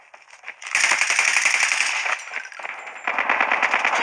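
Rapid automatic gunfire rattles in Call of Duty, a loud, dense burst of crackling shots lasting over a second, a short pause, then another sustained burst, close and without talk.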